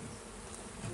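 Honeybees swarm around a newly installed hive at the back of a garden apiary, a dense continuous buzzing hum from many insects close by, steady and without speech.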